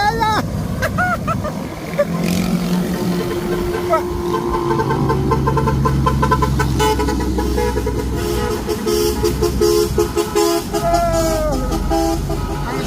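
A motorcycle horn toots a few times over a running engine and road noise, with voices talking throughout.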